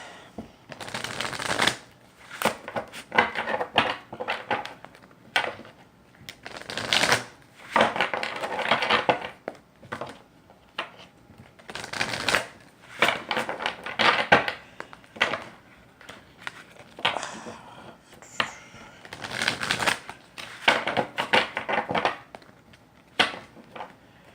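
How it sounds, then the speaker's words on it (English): A tarot deck is shuffled again and again in bursts of riffling and flicking, close up, with short pauses between rounds. "I'm just shuffling."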